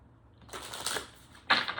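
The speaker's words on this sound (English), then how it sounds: "I'm shuffling 2 different ways now" Playing cards are shuffled close by in two quiet bursts: a soft riffling flutter, then a sharper, brighter riffle a moment later, with nothing else in the background.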